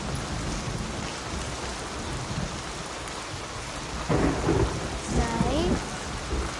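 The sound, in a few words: rain falling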